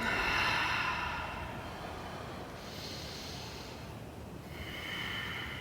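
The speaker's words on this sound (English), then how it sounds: "Deepening the breath." Deep, slow breathing during yoga practice, with long airy inhales and exhales rising and falling in a few drawn-out waves; close and fairly loud, no talking.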